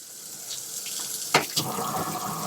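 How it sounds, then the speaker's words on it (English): Water runs from a newly installed kitchen faucet into the sink, a steady rushing stream with a couple of brief splashes and clatters partway through. "Now we can test out this new faucet and see if it works."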